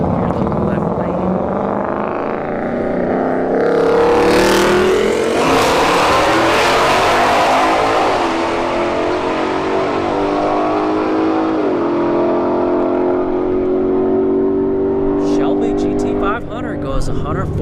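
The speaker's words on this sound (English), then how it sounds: "Alright, Shelby GT500 right lane, S550 the left lane." A Shelby GT500 and an S550 Mustang launch side by side in a Street Heat drag race at Bradenton Motorsports Park, their loud engines roaring and climbing through the gears, with a voice heard faintly beneath.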